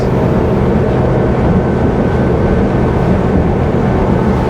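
A RYCK 280 day boat at wide open throttle, running about 30 to 33 knots, makes a loud, constant, deep engine and hull roar with no breaks and no talk.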